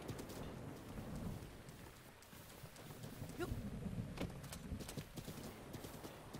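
Horse hooves clip-clop steadily through falling rain in Breath of the Wild, a continuous wash of rain and rumbling weather carrying the even, moderately close hoofbeats throughout.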